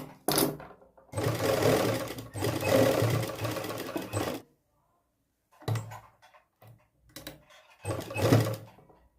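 A sewing machine stitches a V-neck patch on a shirt in loud runs of rapid mechanical whirring, several separate bursts broken by short pauses and light handling clicks.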